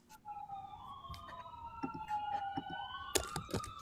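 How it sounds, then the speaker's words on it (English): A wailing siren rises and falls across the whole stretch, fairly distant, over low background rumble and a few faint clicks. "Every time I hear any sirens, it's a warehouse."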